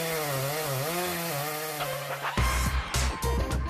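A chainsaw in a TV commercial revs up loudly after a low droning hum, giving a few rough, stuttering bursts of engine noise close by.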